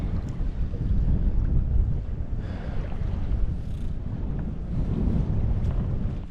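Strong wind and choppy waves around a Wilderness Systems iATAK 110 fishing kayak anchored near rocky water, a steady roar of gusts buffeting the microphone over lapping water, with no voices.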